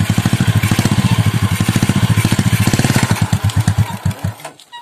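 A Honda Revo Absolute motorcycle with a faulty double clutch runs at a steady, rapid putter that stays loud and close, then slows into separate, uneven thumps as the engine winds down near the end.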